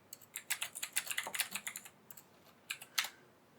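Typing on a computer keyboard, close and distinct, with fast clusters of key clicks in a steady burst, a short pause, then a few more isolated keystrokes with no talking.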